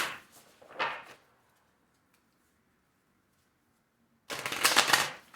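Tarot cards are shuffled in two quick riffling bursts near the start, then a quiet pause, then a longer, louder shuffle close by at the end.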